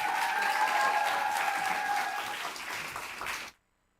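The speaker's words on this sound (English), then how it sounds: "Please welcome them with a big applause." An audience at a school English speaking contest in Ulsan gives a dance team a big round of applause, dense and loud, easing slightly before cutting off abruptly.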